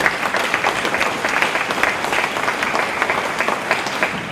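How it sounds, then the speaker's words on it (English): Pupils and staff at a school assembly applaud, a loud, continuous round of clapping with individual claps standing out in a brisk rhythm, no voices over it. "We should give them a clap."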